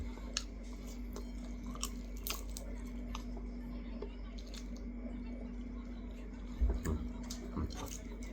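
Soft, close chewing and squishy bites while someone eats boiled mushrooms in tom yum soup, a quiet irregular munching with occasional crunchy clicks over a faint steady hum.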